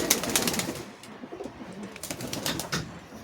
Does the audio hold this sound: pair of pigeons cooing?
yes